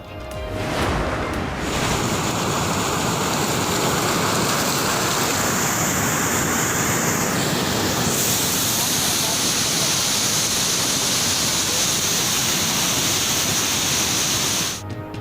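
Floodwater surges through swollen rivers and streams in flood-hit Balochistan, a loud, steady roaring rush that fills the whole stretch without pause.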